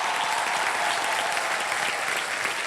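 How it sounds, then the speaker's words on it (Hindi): A studio audience at a TV quiz game show bursts into loud, dense applause that holds steady for the whole stretch, many hands clapping together up close. "बहुत जोरदार तालियां"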